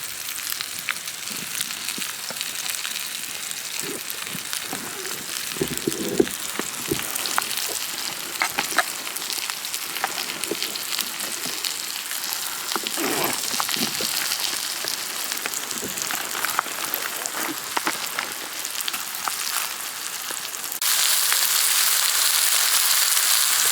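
Steak sizzles and fries steadily in a pan on a Redcamp camping stove in a forest. The hiss stays dense and even, broken by occasional pops and stirring scrapes, and grows louder near the end.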